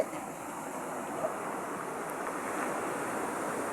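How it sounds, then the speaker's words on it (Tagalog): Big ocean waves crash and roar continuously near a shore where boats are moored, a broad, steady wash of surf mixed with wind buffeting, with no voices. "napakalakas talaga ng alon"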